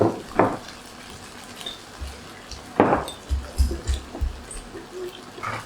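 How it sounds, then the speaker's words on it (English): Beef browning in a hot pan for a Thai stir-fry with oyster sauce, giving a steady sizzle broken by a few louder scraping bursts from stirring and low thuds of the pan. "Then we're browning the beef off at the moment"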